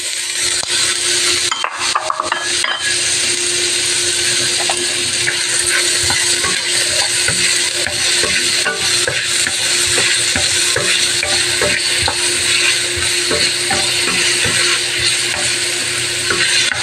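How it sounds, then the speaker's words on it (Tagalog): Hotdogs fry in a pan of a little oil, giving a steady, close sizzle throughout, with occasional scrapes and clacks from stirring and no talk. "piprito muna natin tong hotdog"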